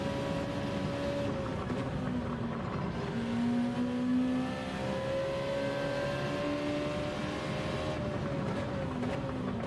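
A race car engine drones steadily at practice, its pitch climbing and dropping as it shifts through the gears, with no talking.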